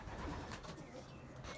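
Racing pigeons housed in a loft with box perches give soft, low cooing that runs steadily throughout, faint and close, with no talk over it.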